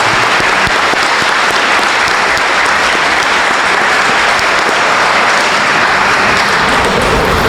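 Loud, sustained applause from a high school graduation audience for scholarship recipients, a thick continuous roar of many hands clapping, steady and unbroken, with no voices over it.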